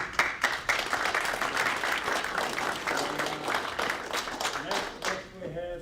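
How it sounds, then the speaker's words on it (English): Audience applause at a prostate cancer support group roundtable meeting, a sustained wash of clapping from a room of people that fades near the end as a voice resumes. "let's give an applause"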